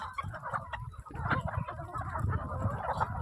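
A flock of farm chickens clucks and murmurs busily while being fed, overlapping soft clucks and occasional louder calls filling a close, steady chorus.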